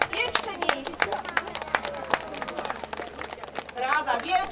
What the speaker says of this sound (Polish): Brawa, wielkie brawa.